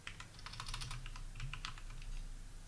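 Rapid, light keystrokes on a computer keyboard while entering a command, a quick irregular patter of clicks, close and moderately quiet over a low background hum.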